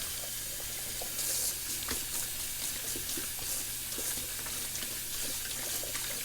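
Tap water runs steadily into a sink while soap is rinsed from a Simpsons Chubby 2 shaving brush, a continuous close hiss with faint splashes and no talking.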